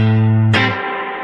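A guitar played through a Fender Tone Master Princeton Reverb amp with spring reverb: one sustained note, then a sharp struck chord that rings and decays over a second, close and without talk.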